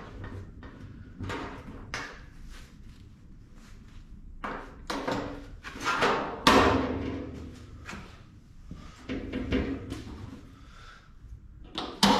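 Someone searches through workshop drawers for clamps while repainting a classic Mini door skin, with repeated sliding, clattering drawer thuds and rummaging knocks at varying loudness over about twelve seconds.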